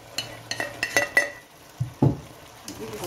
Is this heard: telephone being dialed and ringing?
no